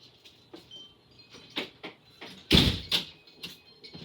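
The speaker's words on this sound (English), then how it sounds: "That was just the door." A home door in a kitchen bangs shut with a loud, close thud, surrounded by lighter clicks and knocks from nearby handling.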